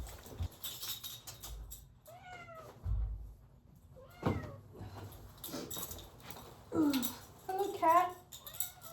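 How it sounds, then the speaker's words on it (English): A domestic cat meows several times in short rising and falling cries, close by, mixed with a person's voice and some light knocking sounds in a quiet room. "Hello, cat."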